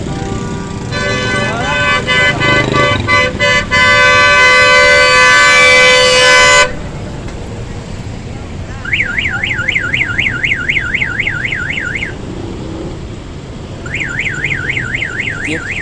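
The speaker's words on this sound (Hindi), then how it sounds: "ये ट्रैफिक जाम हो गई है।" A traffic jam with a loud, steady blaring horn-like tone for several seconds, then a car alarm's rising and falling wail repeating in two bursts over constant road noise.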